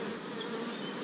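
Honeybees hum at an open hive as frames are lifted out, a steady, close, even buzzing drone that fills the whole moment without pause.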